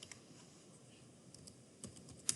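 Scattered keystrokes on a computer keyboard, typed while entering a value into engine fuel-injection tuning software. The clicks are faint and irregular, with a louder cluster near the end and no talking.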